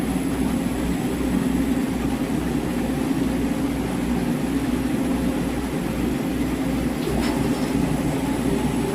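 A StingRay laser engraver runs through a cut, giving a loud, steady mechanical drone with a low rumble and constant broadband hiss and no break across the whole stretch.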